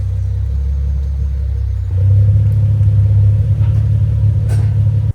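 A Nissan 370Z rolling through a tunnel, its engine a steady low rumble that swells louder partway through and holds, echoing close in the enclosed space with no talking.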